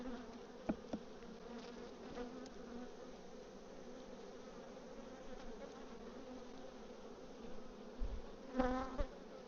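Honey bees buzzing around a hive in a steady, soft drone, with a few louder bumps and closer passes near the end.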